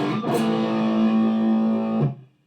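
An electric guitar played through a Chicago Stompworks treble boost pedal turned fully up sustains a bright, distorted note for about two seconds, then cuts off to leave a thin background hiss.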